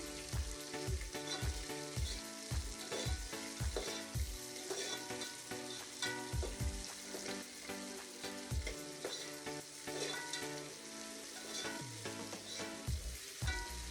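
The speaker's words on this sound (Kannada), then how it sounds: "ಅದು ಫುಲ್ಲು ಫ್ರೈ ಮಾಡ್ಕೊಳ್ಳಿ." Onions fry in a pan for a vegetable biryani, a steady bright sizzle with repeated thumps and scrapes of stirring and some clattering throughout.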